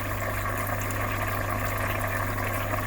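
Water trickles steadily into a backyard fish pond, a continuous even wash of splashing with a low pump-like hum underneath, close and unbroken.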